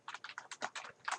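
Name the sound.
typing on a computer keyboard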